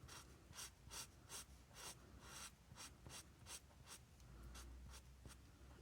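Markers stroke across art journal paper in a steady rhythm of short, close scratchy swipes, roughly a dozen passes, with no talking.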